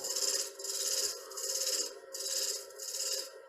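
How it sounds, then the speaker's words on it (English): Round scraper cutting a spinning wooden threaded box on a woodturning lathe, a steady rasping scrape in repeated passes of about half a second each, close and fairly loud with no talk. "So I'll go back to my round scraper and just do it with that."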